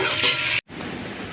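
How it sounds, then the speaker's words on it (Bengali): Eggs frying in hot oil in a pan, a dense, bright broadband sizzle close by, briefly cut by a split-second gap before continuing a little softer. "দেখো, ডিমগুলো ভাজতে দিয়ে দিয়েছি। ডিমগুলো ভাজা হচ্ছে।"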